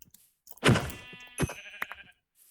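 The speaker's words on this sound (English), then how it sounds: "Or another sheep." A sheep bleats in a video game, one loud wavering bleat followed by a shorter second bleat and a few soft clicks and thumps, fairly close and with no talk over it.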